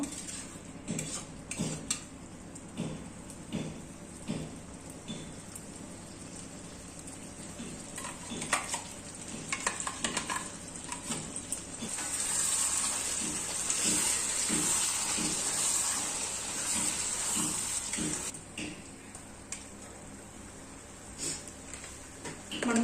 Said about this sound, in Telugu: లో ఫ్లేమ్లో బాగా వేయించుకోవాలి ఇది